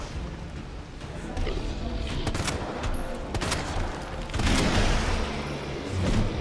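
Magnum gunfire at Mr. X during the Resident Evil 2 final boss fight, with repeated loud, heavy shots amid crashing impacts and dense game noise.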